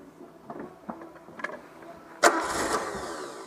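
An old car that has sat unused since 2009 cranks with a few faint clicks and whirs, then catches suddenly with a loud burst and settles into a rough, steady running roar.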